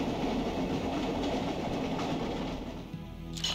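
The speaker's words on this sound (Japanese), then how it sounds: "ブチャラティたちはすでにこの列車のどこかに乗ってるようだな。" A train rolls along steadily in the PS2 game GioGio's Bizarre Adventure (Vento Aureo), a dense, continuous rumble with clickety-clack wheel texture, loud and close, easing slightly near the end.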